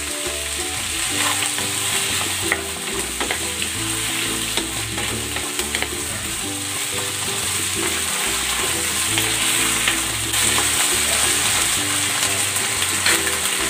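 Loud continuous sizzling and frying of a chicken stir-fry in a pan as oyster sauce goes in, with steady scraping and stirring strokes and no talk.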